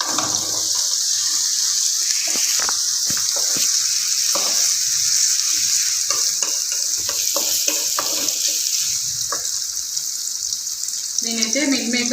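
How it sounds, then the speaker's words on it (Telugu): Chopped onions fry and sizzle loudly in a hot pan, a constant bright crackle with scraping stir strokes running throughout and a brief clatter near the end. "ఆనియన్స్ బాగా కొంచెం రెడ్డిష్ వచ్చేలాగా వేయించుకోండి"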